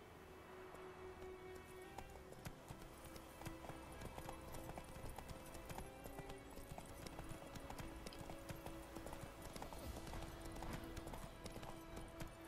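Horse hooves galloping across a burned village in The Witcher 3, a steady, close clip-clop rhythm that runs throughout over the game's ambient background.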